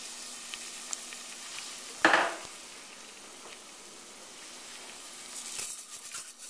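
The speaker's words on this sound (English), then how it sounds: "We're going to put in some olive oil in there, heat it up, and we're also going to throw in the green onions," Green onions frying in olive oil in a saucepan give a faint, steady sizzle, with one sharp burst as they hit the hot oil and a brief swell of frying near the end.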